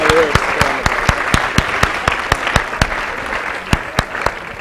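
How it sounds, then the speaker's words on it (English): Audience applause in a university biochemistry lecture hall, with sparse, distinct individual claps standing out over a steady wash of clapping; loud and close, continuing throughout. "Please give applause."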